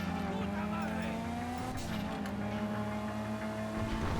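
Grand Theft Auto V car engine revving with rising and falling pitch, a brief braking drop then repeated throttle bursts, loud and continuous with a voice talking over it.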